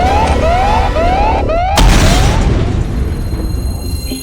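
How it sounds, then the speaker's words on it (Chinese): A laboratory explosion booms suddenly and loudly, cutting off a wailing alarm siren, then a rumbling roar and debris noise trail away over a few seconds. "实验室要爆炸了！"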